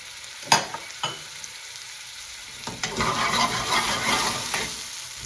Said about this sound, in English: I'm going to wait for the onions to get caramelized.